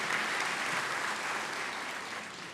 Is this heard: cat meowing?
no